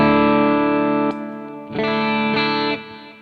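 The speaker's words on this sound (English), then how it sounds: "the snake bite's kind of good for anywhere from a room reverb to like this kind of a medium kind of hall" An electric guitar played through a Snake Bite reverb pedal set to a medium hall rings out in sustained chords, each cutting off into a short decaying tail before the next strum.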